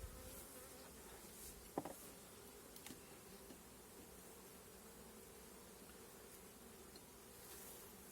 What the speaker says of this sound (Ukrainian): надзвичайно спокійна бджола